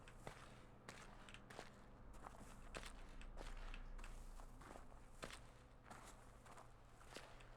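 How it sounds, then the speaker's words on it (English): Footsteps on grass in the video game The Witness, a steady walking rhythm of soft rustling crunches, each step clear and evenly spaced over a low, quiet background. "it does change my footsteps"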